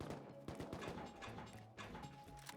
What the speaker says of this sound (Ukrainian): вони там з кимось стріляються